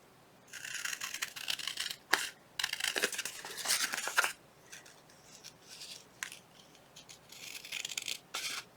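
Scissors trim a fabric or paper pocket piece up close in several bursts of snipping and rubbing, broken by short pauses, with no talking.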